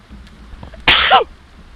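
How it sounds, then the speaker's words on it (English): One loud, close sneeze bursts out suddenly and stops after about a third of a second, with quiet background before and after. "Gotta sneeze."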